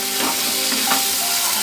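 Mustard paste being stirred with a metal spatula into koi fish frying in oil, with a loud, continuous close sizzle and soft scraping strokes through the pan.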